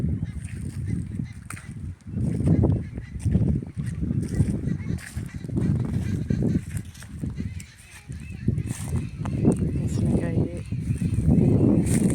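Chickens clucking outdoors in a garden, their calls mixed with steady wind noise and a busy, continuous backdrop.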